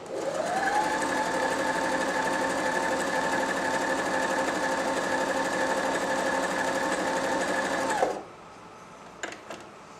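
A Janome 521 or 525s sewing machine running an overcasting stitch, a steady close whir with a constant hum for about eight seconds, then it stops and a few light clicks follow.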